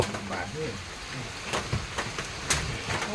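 Rain falls steadily outdoors, a dense hiss with scattered sharper drops and patters, while a voice talks over it.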